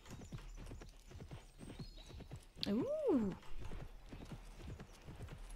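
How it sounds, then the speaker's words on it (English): Horses in the riding game Imagine Champion Rider give steady rhythmic clip-clopping hooves, with a clear whinny midway and a brief spoken exclamation nearby. "Oh, I see some horses."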